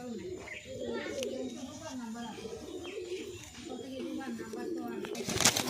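Giribaz and Madras pigeons kept for sale cooing in repeated soft, rolling phrases close by, with someone talking over them and a brief rustle near the end.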